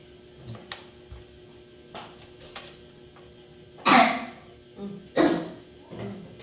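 A person at home sneezes twice in fairly quick succession, sharp and close, amid quiet room sounds, soft ticking and a few small noises.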